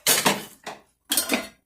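Metal spoons and pans clatter and clink close up as they are handled, in three short bursts of ringing contact with brief silences between them.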